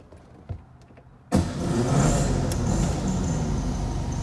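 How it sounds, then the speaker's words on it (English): A 1956 oval window Volkswagen Beetle engine cranks and catches after a moment of quiet, then settles into a steady, rumbling idle close by. "I'm gonna fire it up and let you hear it running."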